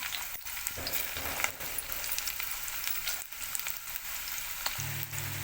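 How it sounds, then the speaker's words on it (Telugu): Finely chopped onions and green chillies sizzle and fry steadily in hot oil for a Telugu-style fish curry, a loud continuous crackle close up with no talking. "అలాగే చిన్నగా తురుముకున్న ఉల్లిపాయ ముక్కలు వేసుకోవాలండి"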